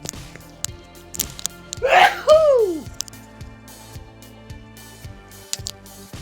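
A single close sneeze bursts out sharply with a voiced, falling tail, set against soft, steady rhythmic game music from Empires & Puzzles.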